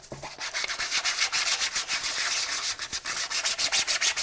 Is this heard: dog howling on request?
no